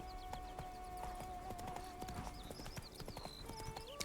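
A horse gallops in The Witcher 3, with rapid, continuous clip-clop hoofbeats close up, mixed with tonal game sounds and music.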